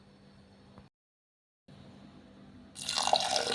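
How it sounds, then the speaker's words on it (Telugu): Water poured into a pressure cooker holding drumstick dal: a soft trickle broken by a short silence, then a louder, broader rush of pouring near the end, with no talk. "ఇప్పుడు ఇందులోకి ఒక హాఫ్ గ్లాస్ వరకు వాటర్ వేసి"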